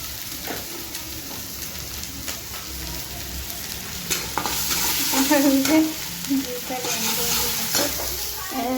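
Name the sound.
fish roe frying in pan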